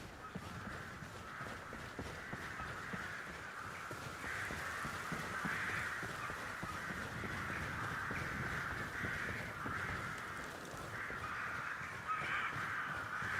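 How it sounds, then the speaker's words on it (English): Crows caw loudly and almost nonstop in the Skyrim video game, many birds calling over one another in a steady, harsh chorus with faint hoof-like clopping beneath. "There's so many birds in the air. Why are there so many? They're so loud."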